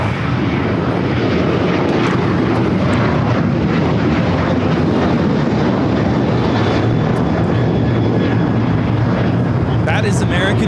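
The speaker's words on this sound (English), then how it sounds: "That is American Airlines 613 taking off to Chicago on the 737-800." An American Airlines Boeing 737-800 takes off, its jet roar loud and continuous throughout, with a voice talking over the engine noise.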